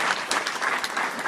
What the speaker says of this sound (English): I think he deserves a round of applause.